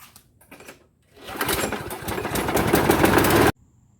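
A repaired walk-behind lawn mower engine, one of a pair of identical Craftsman mowers, starts after a couple of short pulls and runs briefly. Its rough, rattling engine note is close and loud, then stops suddenly.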